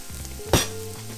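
Onions and green peppers for a meatless Philly cheesesteak hit a hot frying pan, with a brief loud sizzling burst at the drop. A steady frying hiss and low hum continue beneath it.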